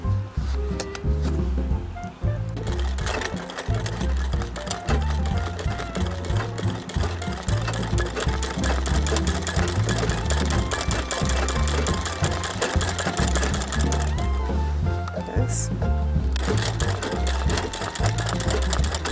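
A sewing machine embroiders small buttons on a rose design, its needle hammering in a fast, steady mechanical rhythm, loud and close, with a brief slowdown near the end and no talking.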